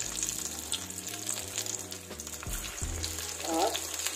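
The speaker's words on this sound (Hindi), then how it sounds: "और इसे फ्राई होने देंगे।" Vegetable dal-rice patty frying in hot oil, a steady close sizzle and crackle running throughout with occasional louder bubbling pops, no voices.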